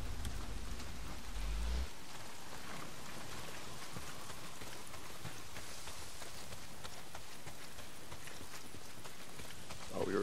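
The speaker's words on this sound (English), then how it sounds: "Well, not if it's pissing down rain." Heavy rain pours steadily in the video game Days Gone, a dense constant hiss that fills the whole scene, with a brief low thud at the start and no voices over it.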